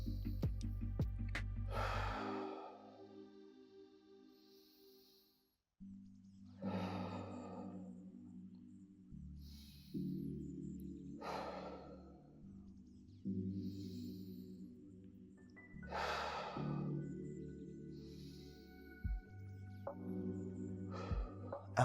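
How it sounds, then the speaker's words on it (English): During a lower back stretching routine, a person breathes slowly and deeply, with long audible breaths in and out repeating in a steady cycle over a soft background tone. "Focus on your breathing."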